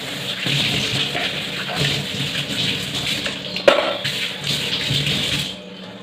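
Running tap water splashes steadily over dishes being washed in a kitchen sink, with soft clinks and one sharper knock of crockery midway before the flow cuts off near the end.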